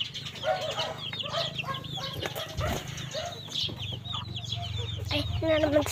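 Chickens clucking nearby in a steady run of short repeated clucks and calls over a low background hum, with faint voices mixed in.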